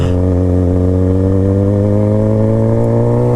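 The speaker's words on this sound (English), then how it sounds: "it's game day, so we got a shit ton of traffic going on downtown" Downtown game-day traffic with motorcycles idles and rumbles steadily nearby, a continuous low engine drone with layered harmonics and no talking.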